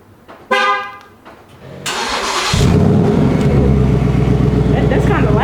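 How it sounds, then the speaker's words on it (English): A 2020 Mustang GT with an MBRP aftermarket exhaust cold-starts in a garage: a short horn-like chirp, then a loud crank and the engine catching into a steady, rumbling idle that holds to the end. "Let me do a little cold start so you guys can hear it."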